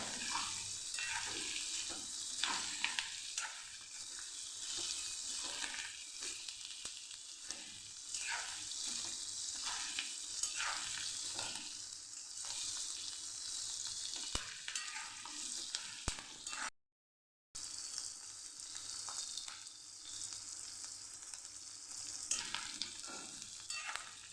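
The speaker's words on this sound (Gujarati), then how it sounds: "અહીંયા તમને દેખાતું જશે કે મરચાં મસ્ત એવા તતળાઈ ગયા છે" Green chillies fry in oil with a continuous quiet crackling sizzle and occasional stirring scrapes, briefly interrupted by a moment of silence.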